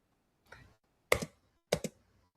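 Three short bursts of computer keyboard typing, a light tap followed by two sharper clustered clicks, close and clear in a quiet room with no talking.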